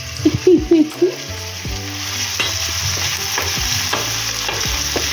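Chicken stew ingredients frying in a pot and stirred with a wooden spoon, a close, steady sizzle with repeated soft knocks and scrapes of the spoon, preceded by a brief burst of low voice-like sound.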